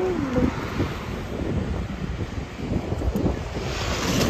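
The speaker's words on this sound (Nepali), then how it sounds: "यस्तो हावा चलिरहेछ कि चिसो चिसो भइरहेछ" Steady cold wind rushing and buffeting the microphone outdoors at a market in Korea, a continuous broadband roar with no voices.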